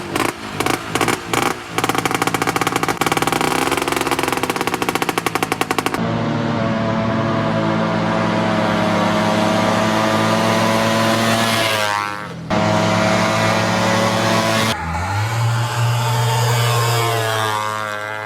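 A small two-stroke engine with a scraping cylinder wall popping in rapid bursts, then revving and buzzing loudly up and down in pitch, close by with no talk.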